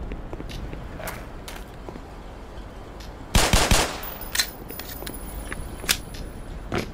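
A gun in the Black Mesa video game firing a short, loud burst of a few rapid shots midway, over low background ambience with a few fainter clicks and thuds around it.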